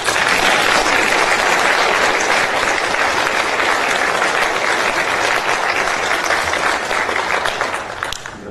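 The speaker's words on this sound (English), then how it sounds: "You guys ought to clap for your pastor" A church audience applauds their pastor, loud, dense and continuous clapping from many hands that holds steady for several seconds before tapering slightly at the end.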